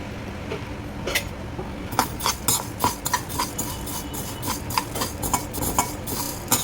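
Whole urad dal dry-roasts in a pan for idli podi, with a spoon stirring and scraping through the dry lentils in quick repeated rattling strokes and clinks, loud and close.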